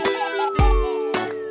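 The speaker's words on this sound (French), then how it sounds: "La sonnette fait ding, ding, ding." A bicycle bell dings in a French children's nursery song, ringing a few bright tones over a musical backing.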